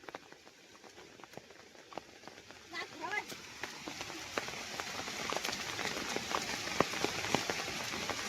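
Rain falls outdoors in a steady, spreading patter that grows louder over time, while people talk over it.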